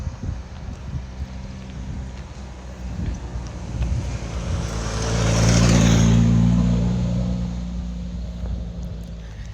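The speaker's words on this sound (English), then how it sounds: "Little bit of traffic, but not real bad." A vehicle passes by on a road next to a gravel camp spot in the Wrangell-St. Elias area of Alaska, swelling from a wind-blown hum to a louder whoosh and then fading away.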